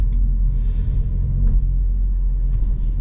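A car accelerating from 0 to 50 km/h on a town street, a deep rumbling engine note heard from inside that rises gently, steady and fairly loud, with a few small clicks and no talking.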